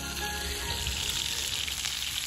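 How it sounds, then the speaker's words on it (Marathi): Bangda (mackerel) frying in a pan at a farmhouse party, a steady dense sizzle and crackle of hot oil running continuously at close range with no talk over it. "आणि एक साईडला बागडे फ्राय चालू आहे"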